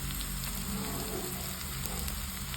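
Ginger garlic paste fries in a pan, giving a steady, close hiss and crackling sizzle that runs unbroken without any talk.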